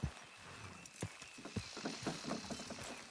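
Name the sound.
horses pulling something down, in video game Red Dead Redemption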